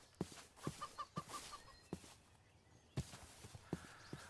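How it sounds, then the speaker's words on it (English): Soft chicken clucks in Minecraft and brief sharp calls repeat irregularly, with light tapping sounds underneath, fairly quiet and close by. "There's chickens"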